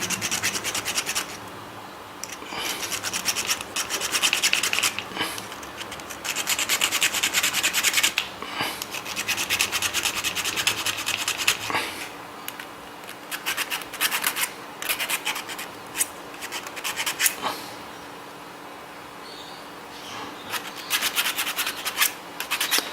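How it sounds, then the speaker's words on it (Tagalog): Sandpaper rubbed against a part of a TV Plus box to level it: repeated close scratchy strokes in bursts, loud and rasping, with short pauses between passes and no talking. "Okay, lihain lang natin."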